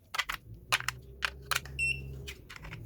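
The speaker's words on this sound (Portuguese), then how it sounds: "Esse bip é que assim que você termina de colocar as pilhas, ele já liga automaticamente." A GD166B clamp multimeter gives a short, clear beep as it powers up after its batteries are inserted, amid sharp handling clicks and knocks.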